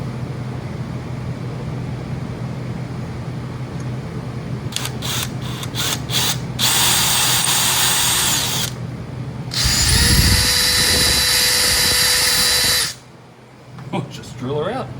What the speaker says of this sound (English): just drill her out.